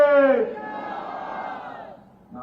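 A rally crowd for Congress president Mallikarjun Kharge in Sukma raises a loud collective shout of his name, bursting at the start and then trailing off into a sustained roar before a fresh swell rises at the end.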